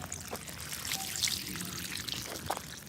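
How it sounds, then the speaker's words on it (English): Running water poured and splashed over a rock as it is rinsed, a steady close trickle with brief louder spatters, moderately quiet, no speech. "I gotta wash this rock off."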